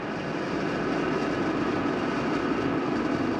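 A SpaceX Falcon 9 rocket lifts off from Florida on the SpainSat NG II mission, a steady, dense, wide roar that stays loud and unbroken throughout, with no voices over it.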